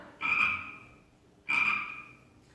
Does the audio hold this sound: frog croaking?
yes